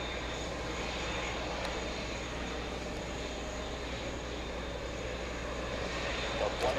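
An Aeromexico Boeing 787 airliner arrives at JFK Airport with a steady, fairly faint jet rumble and roar that holds throughout.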